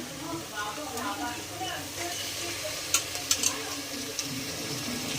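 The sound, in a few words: chicken added to sizzling ginger garlic paste in pan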